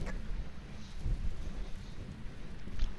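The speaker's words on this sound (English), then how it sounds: "The thunder." Thunder in the video game Phasmophobia comes through as a low, rolling rumble under a steady wash of rain-like noise, moderately faint and continuous, with no clear talk.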